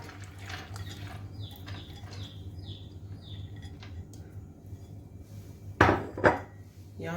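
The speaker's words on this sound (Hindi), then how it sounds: "प्रेशर कुकर में मैं यहाँ पे दाल ऐड करूँगी।" Lentils are tipped into a metal pressure cooker in a home kitchen, with faint metallic clinks followed by two short, sharp rattling bursts near the end.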